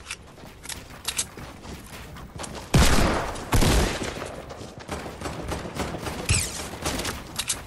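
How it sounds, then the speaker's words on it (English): Gunfire during an aerial fight in Fortnite Season 7, with scattered shots and rattling bursts, two louder heavy volleys near the middle, and lighter shots and mechanical clatter continuing after, with no talking. "I'll worry about the kid that's shooting me down."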